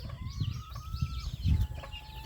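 Young chicks peep and cheep in quick, thin, high calls, joined by a few soft low clucks, all fairly close and fairly quiet.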